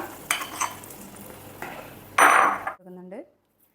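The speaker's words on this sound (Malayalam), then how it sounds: "ചെറിയ ഉള്ളി ഇട്ട് ചെറുതായിട്ടൊന്ന് വഴറ്റിയതിന് ശേഷം, ചെറിയുള്ളി ചെറിയൊരു കളർ മാറണം, അത്രേ ആവശ്യമുള്ളൂ. മിക്സ് ചെയ്ത് വെച്ചിരിക്കുന്ന ഈ ഒരു കൂട്ട് ഇതിനകത്തേക്ക് ചേർക്കുക." A spice mixture is added to shallots sautéing in a pan. A few utensil clinks are followed by a short loud sizzling burst, then a brief ringing tone before the sound drops to silence.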